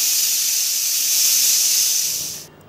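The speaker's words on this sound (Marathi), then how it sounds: "आपण कुकरच्या 3 शिट्ट्या काढून घेतलेल्या आहे." A pressure cooker with ivy gourd rice (tondali bhat) over a high gas flame lets out a loud, steady, close steam hiss for about two seconds before it cuts off sharply.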